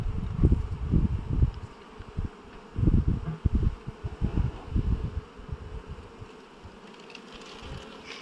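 Honey bees buzz steadily around an open hive while a beekeeper combines colonies, a dense low droning swarm with bursts that swell and fade, close and fairly loud throughout.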